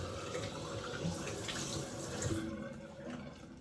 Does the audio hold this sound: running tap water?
yes